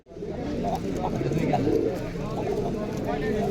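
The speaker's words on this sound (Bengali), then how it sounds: "অনেক সুন্দর সুন্দর দেশি কবুতর আমাদের।" Domestic pigeons at a busy pigeon market in Rajshahi coo continuously in a dense, overlapping chorus close by, under a constant murmur of crowd talk.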